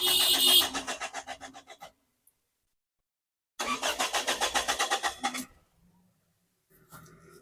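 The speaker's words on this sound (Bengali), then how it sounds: "এবং সেলফ দেওয়া হচ্ছে।" A Toyota Hiace van's starter cranks in two rapid, rhythmic bursts separated by a silent pause, followed by a faint engine stirring at the end.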